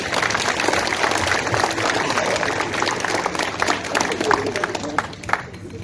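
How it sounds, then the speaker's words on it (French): Spectators at an aquathlon podium ceremony for a swimming club applaud, a steady patter of clapping under outdoor crowd noise and a voice over it. "On peut l'applaudir."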